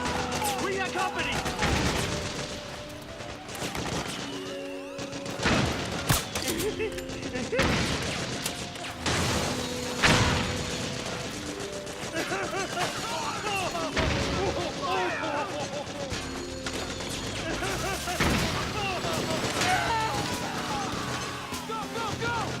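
Dense battlefield gunfire from Metal Gear Solid 4, with repeated loud shots, heavy impacts and bursts running continuously, mixed with game music and shouted voices.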